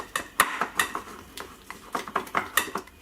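Spoon clinking and scraping against bowls while food colouring is stirred into cake batter, a quick irregular series of sharp taps and rattles, close up with no voices.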